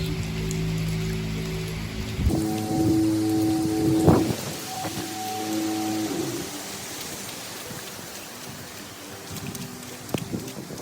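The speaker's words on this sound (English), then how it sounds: "raining pretty good today." Heavy rain pours down steadily on a dairy farm in a dense, continuous hiss, with a low rumble and occasional cow calls in the background.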